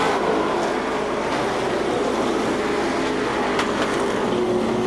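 Sportsman stock cars circle the Seekonk Speedway oval during a 50-lap feature, a steady continuous engine roar from a pack of cars at moderate distance, with no pauses across the stretch.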